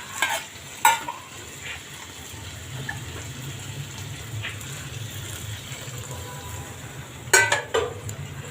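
Water saved from boiling the chana is poured into a pan of chana masala, followed by steady stirring and a soft simmering sizzle, with a few sharp clinks from the utensil.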